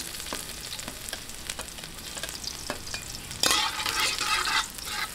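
Garlic sizzles in a pan while being stirred, with a steady frying crackle and periodic spatula scrapes, and a louder burst of sizzling near the end.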